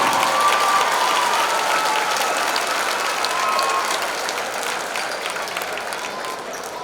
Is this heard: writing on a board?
no